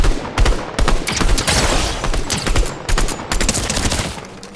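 Dense volleys of gunfire from a new weapon in the video game Fortnite, loud, rapid bursts running almost without pause through the whole stretch.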